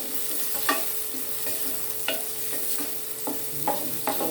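Garlic frying in a pan for picadillo, a steady close sizzle broken by the scrape and clack of a stirring utensil every second or so.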